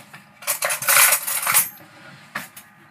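A knife works through mozzarella on a board while pizza is made at home, giving a burst of rapid clattering chops up close, then a lone knock after a pause.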